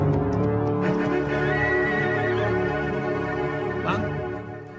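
A horse whinnies loudly and continuously in a rising, wavering neigh, close by, with a voice and faint hoof movement in the background.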